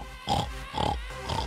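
A voice imitates a pig oinking in three rhythmic nasal grunts, close and fairly quiet, with no other talk.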